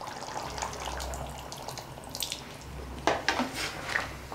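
Tamarind water is poured into a simmering dry fish curry, giving a brief splashing, trickling sound with a few clinks from the pot, close and fairly loud.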